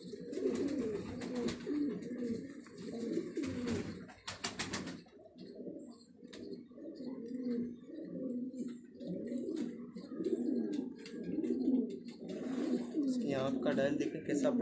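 Pigeons coo in a steady, rolling rhythm, a soft repeated throaty call close by, with a few faint chirps and flutters in the background.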